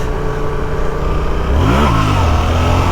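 Yamaha XSR700 twin motorcycle in third gear at about 30 mph, clutch released so the engine note swells sharply and climbs in pitch, loud and close, on a cold road with the back tire spinning.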